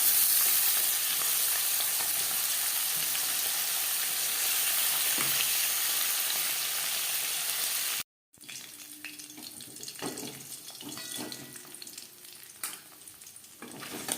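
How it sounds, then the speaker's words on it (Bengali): Tangra fish frying in oil in a wok, a loud steady sizzle that cuts off abruptly, then resumes as quieter crackling with occasional clinks, no talking. "প্রথম ব্যাচের মাছ আমি কম করেই ভেজে নিলাম"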